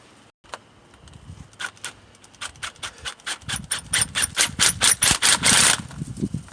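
A 10mm socket ratchet tightens the air box on a 2003 Hyundai Santa Fe, clicking in a rapid run of sharp, close strokes that quicken and grow louder before stopping.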